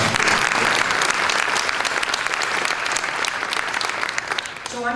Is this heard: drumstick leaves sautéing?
no